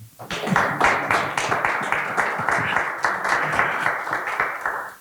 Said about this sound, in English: A round of applause for Sydney.